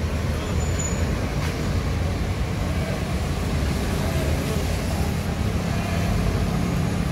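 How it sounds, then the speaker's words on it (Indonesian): A Sempati Star passenger bus pulls out of a bus terminal ticket counter area, its engine a steady, continuous rumble with broad road noise holding even throughout, no talking. "Oke, bus keluar dari loket."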